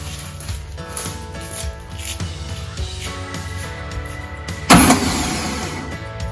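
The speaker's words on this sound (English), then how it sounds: "All right, so you saw the engine turn over." A VW Beetle engine cranking over, the starter churning with a steady rhythmic whir for several seconds before a sudden louder burst near the end.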